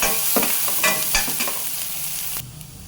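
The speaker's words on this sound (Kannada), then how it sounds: "ಈಗ ಮೆಂತ್ಯ ಮೊಳಕೆ ಬರಿಸಿದ ಕಾಳು ಸ್ವಲ್ಪ ಫ್ರೈ ಆದಮೇಲೆ ಈರುಳ್ಳಿ ಹಾಕ್ಕೊಳ್ತಿದ್ದೀನಿ." Chopped onion and sprouted fenugreek seeds frying in a pan, with a loud, dense sizzle and a few stirring scrapes, the hiss dropping off abruptly near the end.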